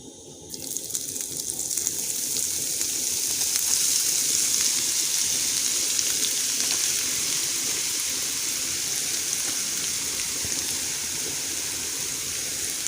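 Grated carrot goes into hot oil for homemade carrot oil, setting off a loud, steady sizzle that swells quickly and then holds as a continuous hiss.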